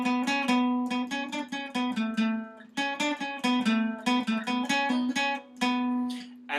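Electric guitar plays the song section before the solo, a steady run of strummed and picked notes with a sustained drone beneath, close and loud, with no talking.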